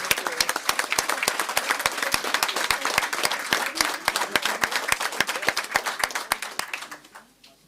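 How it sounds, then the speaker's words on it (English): A room full of people claps steadily at a municipal council meeting in Mossel Bay, the dense, even applause holding for several seconds before tapering off quickly into silence. "Let's give him also a round of applause."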